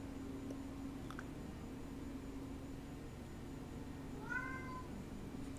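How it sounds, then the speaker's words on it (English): A single short meow from a house cat comes near the end, fairly faint and set against a low steady background hum. "Can you guys hear my cat?"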